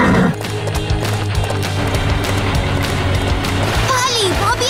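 A cartoon pony's hooves clip-clop in a quick trotting rhythm, and a high whinny rises near the end over background music and effects.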